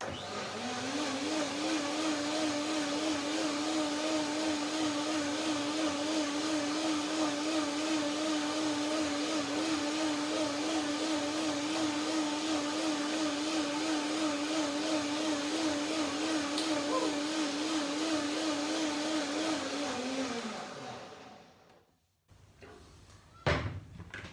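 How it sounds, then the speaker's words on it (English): Blender running steadily at high speed on blueberries, nectarines and cinnamon cashew cream, a loud continuous whirring hum for about twenty seconds before winding down, followed by a few clattering handling sounds. "So one more blender dance to get it right."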